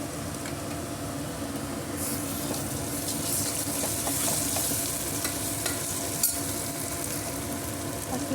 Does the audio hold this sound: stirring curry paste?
yes